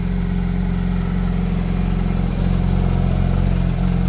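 A Porsche GT3 engine runs steadily and loud at high revs, close by, with a deep continuous drone that rises slightly partway through.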